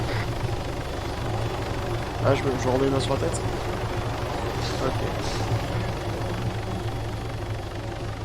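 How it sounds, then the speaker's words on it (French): A helicopter in a game scene, its steady rotor and turbine drone taking off in the background throughout, moderately loud, while someone speaks briefly over it. "Il y a un hélico qui est en train de décoller là."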